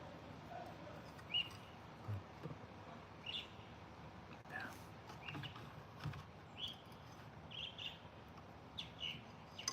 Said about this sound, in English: Sitting out here in the garage and listening to some birds like that after a big rain.